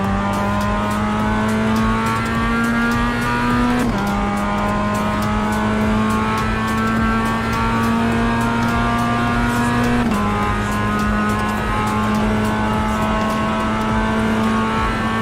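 A race car engine with a cut muffler in the racing sim iRacing, droning loud and steady at sustained high revs with a rorty, raspy edge, dipping briefly at two gear shifts, with no voices.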